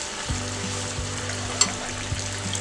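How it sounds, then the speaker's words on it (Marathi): Pakora batter spoonfuls go into hot oil in a wok, giving a steady close sizzle with soft thumps as each piece drops in and a small clink of the spoon. "पकोडे सोडून घेऊया चमच्याने असे."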